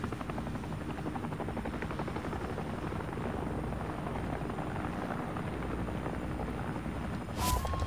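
Video game helicopter, a steady, loud rotor thump and engine drone that holds unchanged throughout, with a brief high click near the end.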